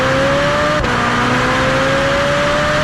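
Ferrari F1 car with a back box exhaust, revving hard at close range: a loud, steady high-pitched engine whine that drops briefly at a gear change, then climbs again.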